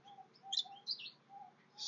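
Small finches around a garden bird bath, giving short, high chirps and tweets in a scattered rhythm, fairly faint and close, with no talk.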